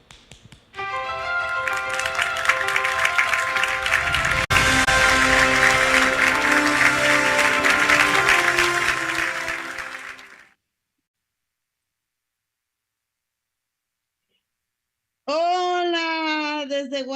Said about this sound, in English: Please help me from wherever you are connecting to have this applause for Mrs.